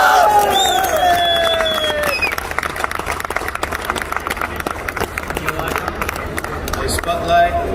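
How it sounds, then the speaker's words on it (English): Audience applause and light cheering in an event hall as a presenter walks on stage at a Dubai expo gathering, a clapping crowd with scattered voices, music tones and footsteps mixed in. "Let's give him another round of applause."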